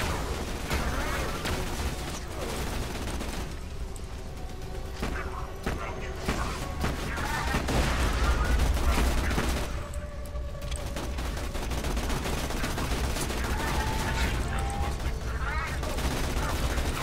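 Rapid gunfire and explosive bursts crackle through a dense, busy mix of battle noise in the video game Borderlands 2, continuing without a break across the whole stretch.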